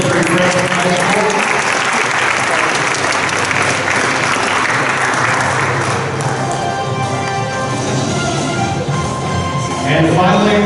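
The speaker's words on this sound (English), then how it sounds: "A round of applause for Jared Vanderbilt from Victory Creek High School." Loud audience applause fills a high school basketball awards ceremony, a dense steady roar of many hands clapping throughout, with some crowd noise mixed in.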